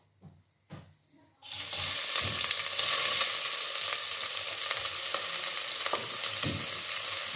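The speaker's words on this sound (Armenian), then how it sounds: "Հիմա կավելացնեմ սոխը" Onion hits a hot pan and sizzles loudly for several seconds, a steady bright frying hiss following a couple of quiet knocks at the start, with no voices.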